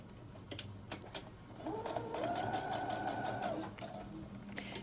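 A sewing machine stitches elastic for a fabric hair scrunchie in a quiet, close mechanical whir lasting a couple of seconds, framed by scattered light clicks and handling noises.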